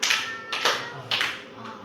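Hand claps counted out in a patterned rhythm, four crisp, close single claps spaced about half a second apart, with soft talk between them.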